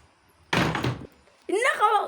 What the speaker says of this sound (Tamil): இன்னும் கதவும் மூடிடுச்சு கைஸ்.